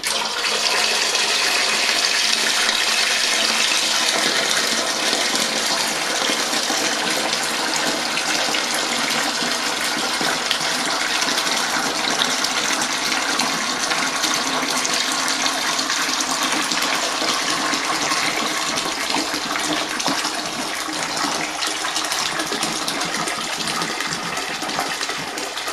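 Wine kit juice for a Winexpert Eclipse Gewurztraminer is poured into a primary fermenter in one long, steady gushing stream that runs loud and unbroken for about twenty-five seconds, with no one speaking.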